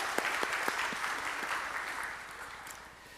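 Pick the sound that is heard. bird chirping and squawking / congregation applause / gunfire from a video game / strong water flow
congregation applause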